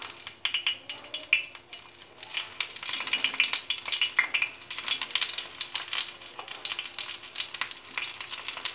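Brinjal pieces frying in a little oil in a pan over a low flame: soft, steady crackling sizzle with scattered sharper pops and occasional stirring scrapes, fairly close.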